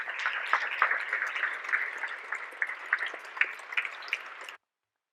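Steady, dense applause from an audience at a public health research institute's citizen meeting, a fairly loud wash of many clapping hands that holds for about four and a half seconds and then stops abruptly.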